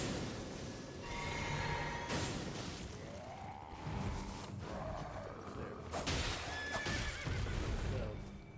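A horse neighs and whinnies amid hooves clopping and whooshing combat effects in the Elden Ring video game, with layered game sounds and a person speaking at times.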